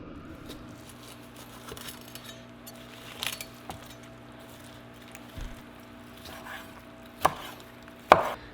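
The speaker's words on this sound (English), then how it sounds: "Carve this up" A cooked wild turkey is carved at a home kitchen counter, with soft slicing and squishing, a few knife taps and two sharp clinks near the end, close and quiet over a faint hum.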